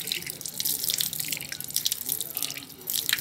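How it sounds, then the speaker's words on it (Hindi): Water runs from a faucet over a freshly cleaned tap, a steady splashing, dripping rinse close up that fills the whole stretch. "अब इसको हम पानी से धोते हैं जी"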